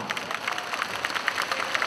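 A seated audience at a charity receipt-donation ceremony gives a short burst of dense, even clapping, heard from a moderate distance with no voices over it.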